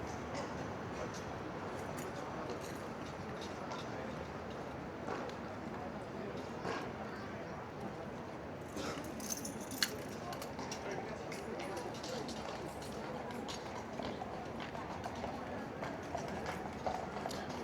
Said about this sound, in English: this horse can't wait to get in the box